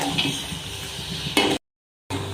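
Jaggery syrup for peanut candy boiling down in a pan, a continuous bubbling hiss with a brief stirring clatter, broken by a sudden short silence before the bubbling returns.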